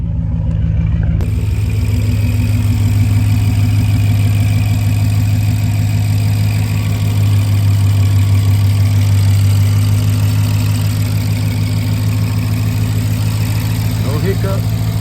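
A BMW 650i engine idles steadily and close by after a front-mount air intake install, a loud continuous low rumble with a smooth even tone throughout and no talk over it.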